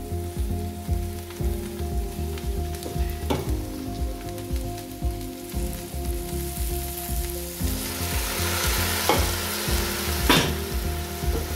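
Boiled beef sizzles in a pan with rice and vegetables, giving a steady frying hiss broken by repeated scraping, clattering strokes of a utensil stirring the mix.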